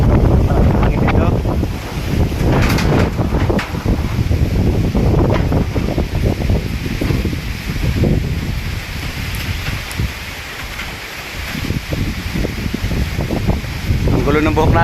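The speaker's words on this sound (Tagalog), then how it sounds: "at yan makikita nyo hangin dito" Strong wind roars and buffets the microphone throughout, loud and gusty, with faint voices and water-like rushing mixed underneath.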